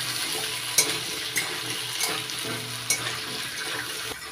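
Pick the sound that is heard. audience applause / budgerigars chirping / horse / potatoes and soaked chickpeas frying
potatoes and soaked chickpeas frying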